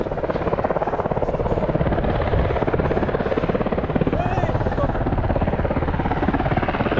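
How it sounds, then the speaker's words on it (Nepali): A helicopter flies nearby over a beach park, its loud, steady rotor chop throbbing continuously throughout, with a voice faintly present beneath it. "ए हेलिकप्टर त्यहाँ रहेछ नि"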